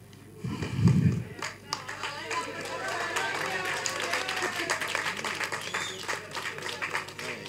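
A crowd at a Tamil film event claps in a loud burst near the start, and then scattered clapping continues under someone speaking to the audience.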